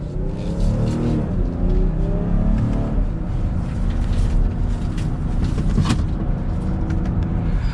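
A 2022 BMW X5 sDrive40i driving a winding road in manual mode, giving a loud, steady engine drone with rising and falling revs and road noise from inside the cabin.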